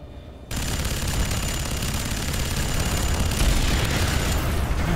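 Dense rocket explosions and rapid gunfire from the video game Fear 3 roar continuously after a quiet opening, booms layered over rattling shots.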